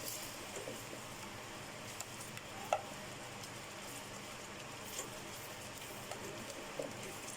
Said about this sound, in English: Now I am going to put the refined flour in that and stir it regularly.